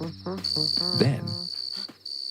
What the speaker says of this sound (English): he heard something. A cricket.